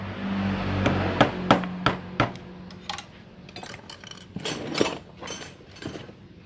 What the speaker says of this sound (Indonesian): Masih sama ya, menggunakan petel ya, berhubung nggak punya impact ya